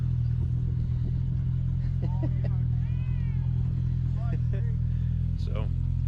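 Cat meowing outdoors beside an idling off-road vehicle, several short rising and falling mews over a loud steady engine rumble, with a person speaking at times.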